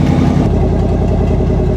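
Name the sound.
1958 Apache truck engine running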